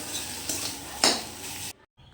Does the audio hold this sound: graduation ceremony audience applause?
no